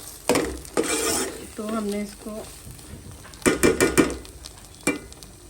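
Mustard greens saag sizzles in a pan while a utensil stirs and scrapes against the metal in several bursts, with someone speaking briefly between the stirring sounds.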